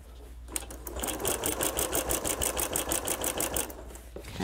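A sewing machine stitches a quilt-as-you-go sewing machine cover in a steady run of rapid, even needle strokes, close and fairly loud, starting and stopping cleanly.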